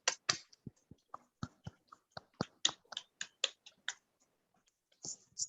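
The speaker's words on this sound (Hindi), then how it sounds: "अपने लिए जोरदार तालियां बजाएं" Participants at a meditation session clap for themselves: sparse, distinct individual claps in an irregular pattern, close and fairly quiet in an otherwise silent room.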